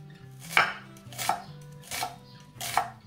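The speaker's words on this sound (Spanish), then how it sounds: "Picamos un poquito de cebolleta fresca" A knife chops fresh spring onion on a board for a potato and mussel salad, with four evenly spaced, crisp thuds close by and nothing else around them.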